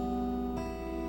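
A single guitar note rings steadily and is then joined by another plucked string partway through, part of a fingerpicked pattern across the sixth, third, second and first strings, close and quiet.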